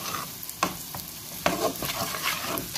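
Chicken shawarma rice with a small spoon of turmeric is sautéed in a pan, giving a soft, steady sizzle broken by a few sharper scrapes of stirring, close and fairly quiet, with no voices.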